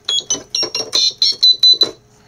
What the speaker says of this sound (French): ce qui fait le son c'est le buzzer que j'ai mis là-dessus, que je hache avec un petit transistor